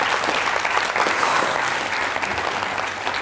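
Studio audience applause rings out for a player in a televised book quiz show, a dense, steady burst of clapping at close range that fades slightly toward the end.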